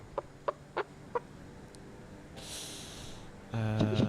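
A person imitates a hen's clucking with a few short, sharp vocal bursts followed by a louder, sustained squawking cluck, close and alone in a quiet room.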